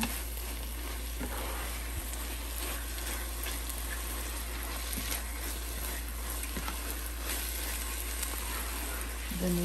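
Ghee-laced pear and bottle gourd halwa stirred in a pan, a steady close sizzle and frying hiss with soft scraping of the spoon running the whole time, no voices.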